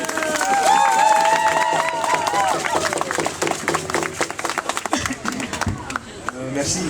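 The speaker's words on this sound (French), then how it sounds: "On l'applaudit!" At a First Nations rally in Montréal, a crowd claps and cheers while voices talk over it at the start, the sharp claps growing sparser toward the end.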